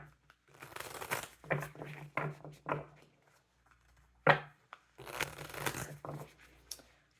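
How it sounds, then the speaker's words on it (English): Tarot cards shuffled by hand in several short bursts of riffling and flicking, close and crisp, with brief pauses between them and a sharp snap partway through. "Do 2 more shuffles."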